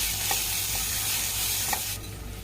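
Steady sizzling of onion and ginger-garlic paste frying in a pan, with a few soft scraping stirs of a spoon over the constant hiss.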